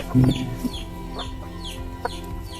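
Chickens and roosters clucking nearby at a Filipino backyard poultry setting, a few louder clucks early then softer scattered calls over a steady background.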